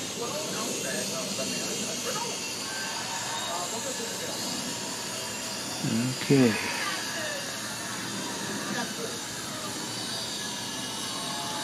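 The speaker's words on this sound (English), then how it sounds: "there's the drone. It's my daughter's drone. I'm not sure which one it is, but it's coming this way." A drone flies overhead, a steady hissing whir that sits close and constant throughout, with a brief louder swell midway and a short spoken word near the start.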